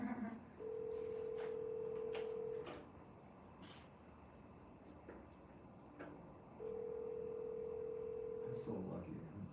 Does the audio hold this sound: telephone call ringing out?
yes